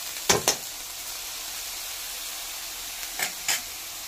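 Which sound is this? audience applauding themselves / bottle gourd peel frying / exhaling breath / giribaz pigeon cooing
bottle gourd peel frying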